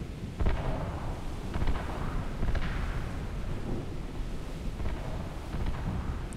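Heavy naval guns firing in the War Thunder video game, a run of deep booming shots at uneven intervals under a rumbling, windy background, fairly distant and muffled.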